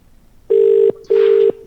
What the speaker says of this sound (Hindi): इनको फोन लगाया गया है।